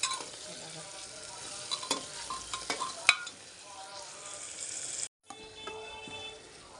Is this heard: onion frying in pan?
yes